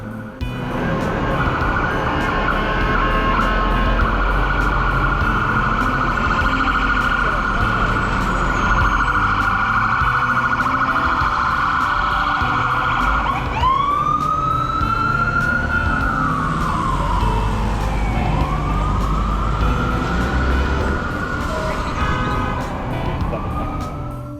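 Busy New York City street ambience near Times Square at night with a steady traffic roar, then a wailing emergency siren rises and sweeps up and down in the second half.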